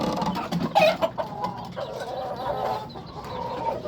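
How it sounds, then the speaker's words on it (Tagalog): Chickens cluck and squawk close by in short, busy bursts, with no one talking. "tayo ay magpapakain ng manok"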